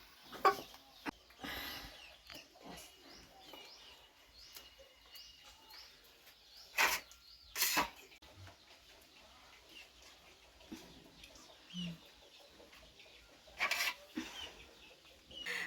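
A native chicken clucking in short, scattered calls, faint and intermittent against a quiet outdoor background.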